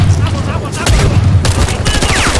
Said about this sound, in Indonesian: terjadi adu tembak yang sangat sengit di antara mereka